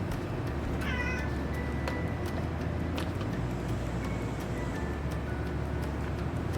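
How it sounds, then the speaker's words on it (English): A pet cat meows indoors in a kitchen during cooking, with a few short mews near the start and softer calls later over a steady background hum, and no voices. "quit meowing"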